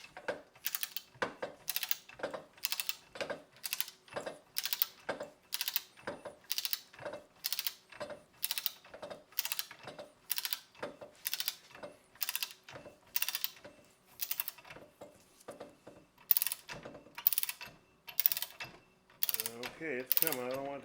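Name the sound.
wrench loosening rear bearing nut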